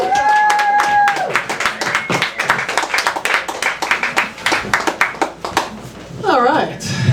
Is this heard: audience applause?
yes